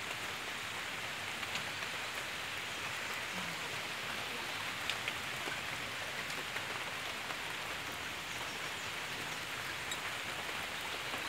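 Rain falls steadily outdoors around a garden of plants, a soft even hiss of drops with a few faint taps, constant throughout and with no voices.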